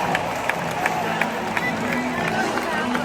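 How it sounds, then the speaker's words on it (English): A baseball crowd at Steinbrenner Field cheers in a broad, continuous roar of voices from the stands, with announcer talk mixed faintly underneath. "The crowd is erupting in cheers."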